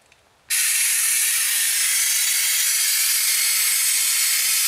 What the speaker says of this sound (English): we're ready to put this cooling system into a vacuum.